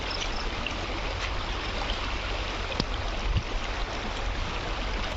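A river in Tiro, Aceh flows steadily in a broad, even wash of rushing water close by, with one faint splash partway through and no voices.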